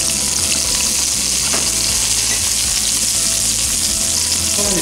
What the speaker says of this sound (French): Rim a mis une poêle à chauffer avec de l'huile de tournesol. Elle y ajoute ses oignons qu'elle va faire tuer.